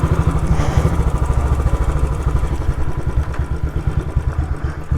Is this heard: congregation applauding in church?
no